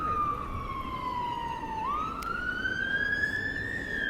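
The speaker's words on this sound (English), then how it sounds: "And there goes the siren." Emergency vehicle siren wailing on Blackpool Seafront, a steady loud tone that dips and then sweeps upward again, sustained over constant street background without talk.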